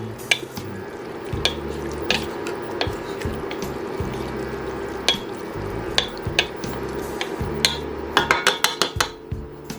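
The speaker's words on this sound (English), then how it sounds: "Stir that old stuff up again." Creole chili with red beans being stirred in a pot, a spoon scraping and knocking against the sides in a steady, repeated rhythm with a quicker cluster of clinks near the end, close and alone.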